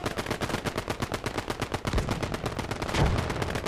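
Sustained machine gun fire in a WWII tank combat game, a rapid, even stream of loud bursts filling the whole stretch, with a heavier thump near the end.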